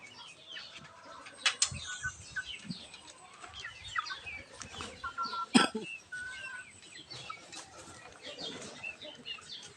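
Chickens in a clean backyard run cluck and chirp on and off, with a couple of sharp bursts of wing flapping and scattered scratching noises nearby.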